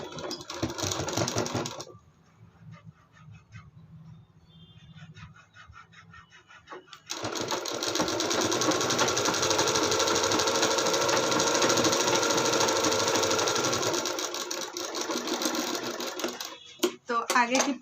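Sewing machine stitching a folded half-inch hem on blouse fabric, running in a long steady whirring burst after a brief start, with a quieter pause between; close and loud.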